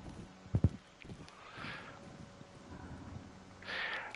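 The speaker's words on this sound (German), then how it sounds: "die Rehe, die hören sich auch schon so an wie ein Pferd, was hier so durchgaloppiert" Hoofbeats of a galloping deer in the video game The Forest: a couple of sharp thuds early, then a softer, rolling patter of steps with faint rustling, no voices.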